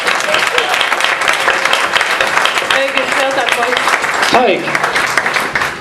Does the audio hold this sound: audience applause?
yes